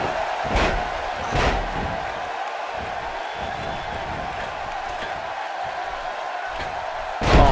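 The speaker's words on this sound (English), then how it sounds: "She slams her down with great force." Body slam in a WWE 2K18 wrestling match: two dull, heavy thuds near the start, followed by a steady arena crowd roar and a sharp impact burst at the end.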